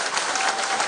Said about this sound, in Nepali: जोरदार तालीद्वारा स्वागत गरौँ